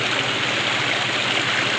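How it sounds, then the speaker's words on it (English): Water rushes and splashes steadily in an icy stream, a continuous close-up wash of noise with no voices. "There's a lot of water running too."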